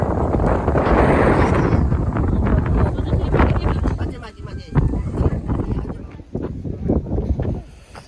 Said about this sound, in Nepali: पाख्रीबासको टावरले हावा एकदमै चिसो चलिरहेछ